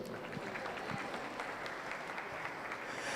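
An audience at a youth fair market steer show applauds the senior finals, a sustained wash of steady clapping throughout with faint talk underneath.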